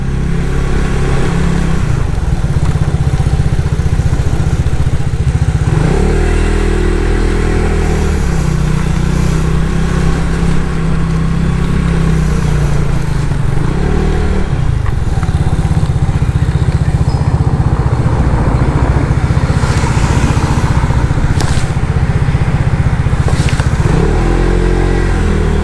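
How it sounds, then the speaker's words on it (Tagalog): Motorcycles and other traffic on a Macau street make a continuous loud engine drone with repeated revving swells as bikes pass close by, lasting throughout. "Yan o, yan o, tinan nyo, dami motor."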